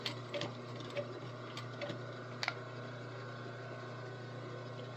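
Domestic sewing machine back stitching at the start of a seam on an outfit in progress, a soft steady mechanical whir with light ticking clicks, close and fairly quiet, with a few sharper taps.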